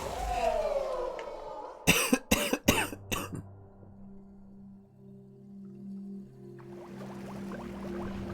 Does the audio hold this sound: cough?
yes